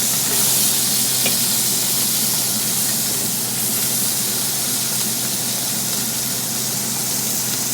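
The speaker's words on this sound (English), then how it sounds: "This is still searing over here." Pot roast beef searing in a hot pan beside broth, giving a continuous, even sizzle and crackling hiss that stays close and steady throughout, with no voices.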